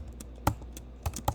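Several separate keystrokes on a computer keyboard, tapped sparsely and fairly close against a quiet room hum, with no talk.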